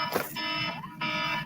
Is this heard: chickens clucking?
no